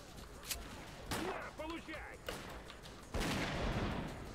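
Bursts of gunfire from the S.T.A.L.K.E.R.: Clear Sky video game, several sharp cracks and a sustained volley toward the end, heard with a voice talking in between.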